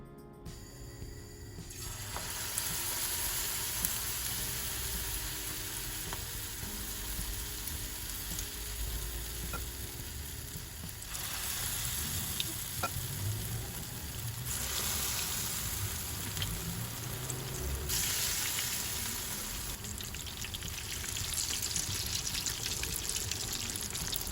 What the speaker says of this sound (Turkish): Şimdi mücverlerimizi bol kızgın yağda kızartalım